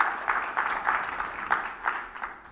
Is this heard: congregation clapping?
yes